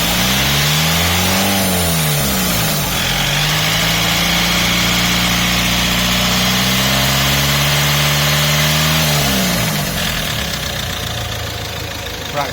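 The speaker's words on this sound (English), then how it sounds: "Right, so this is the sound of the engine." A car engine, freshly carbon-cleaned, runs steadily at idle, loud and close, with its pitch briefly rising and falling as it revs before settling back to a constant drone.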